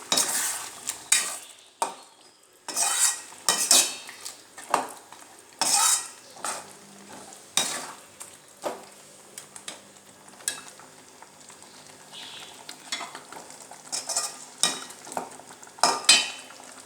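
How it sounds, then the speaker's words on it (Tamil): A spoon scrapes and stirs mutton chops curry with onion and tomato in a pan, giving repeated close clatters and scrapes over a low, steady sizzle. "கிண்டி விட்டுக்கோங்க."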